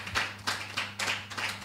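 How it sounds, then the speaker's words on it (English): Congregation clapping hands in a church, a few loud rhythmic claps about every 0.3 seconds over a steady low hum, no voices. "I believe it's a place to clap your hands."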